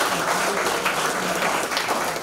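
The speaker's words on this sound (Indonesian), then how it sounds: "Boleh tepuk tangan dulu untuk" Applause from an audience at a school graduation ceremony, a broad steady wash of clapping that holds at an even level for a couple of seconds with no talk over it.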